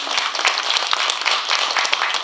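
A crowd at a book launch event in Korea claps loudly and continuously, with dense, scattered hand claps and no voices over them.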